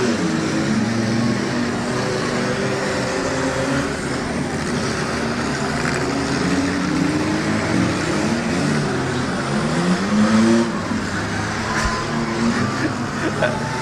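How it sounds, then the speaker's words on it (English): Race cars on the final lap at the Portage County derby drone together in a continuous engine roar whose pitch rises and falls as they circle, at moderate distance over steady outdoor noise. "Last lap, got the white flag going there for the 24 of Cody Miller."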